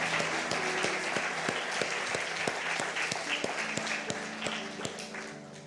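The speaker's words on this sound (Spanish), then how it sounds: "Dele un aplauso, Señor." A church congregation applauds, mostly steady blended clapping with a few sharp individual claps standing out, held at a moderate level throughout while a sustained tone hums beneath.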